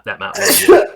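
A single sharp sneeze bursts out close by, in the middle of people chatting; voices can be heard just before and around it.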